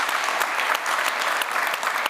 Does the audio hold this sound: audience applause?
yes